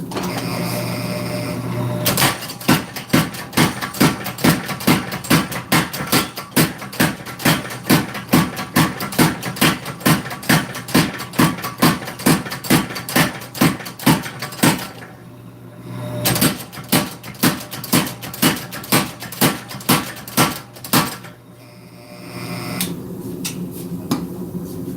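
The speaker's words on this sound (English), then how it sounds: "we've brought it down quite a bit just with the power hammer there" A power hammer pounds steel while drawing out stock for a kwaiken blade, striking in a fast, steady rhythm of loud, sharp blows that pause briefly twice before resuming, with no talking over the hammering.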